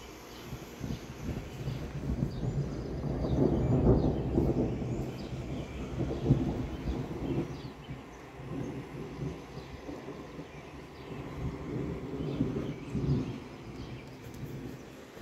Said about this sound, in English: Probably not the smartest idea to be standing on a deck during a thunderstorm.